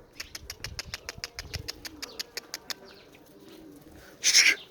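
A flock of pigeons, released together for a flight, beats its wings in a fast run of sharp flaps, then breaks off into a loud close burst of flapping, with no voices.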